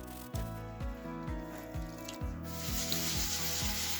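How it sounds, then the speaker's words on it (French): Scrubbing of a metal anvil table with steel wool and soapy water in a workshop, a steady close rubbing with repeated rhythmic strokes and faint wet sounds. "je suis passé à l'éponge métallique et à l'eau savonneuse"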